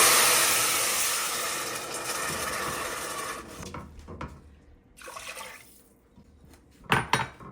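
Water pours into a hot pan of rice and stock, a loud rushing splash that fades into bubbling and a few sharp sputters near the end.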